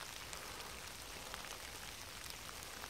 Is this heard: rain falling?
yes